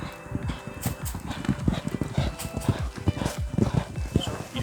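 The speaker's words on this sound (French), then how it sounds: "C'est un cheval qui adore sauter" Horse hooves clip-clop in a brisk, steady rhythm of close hollow knocks, with voices talking faintly in the background.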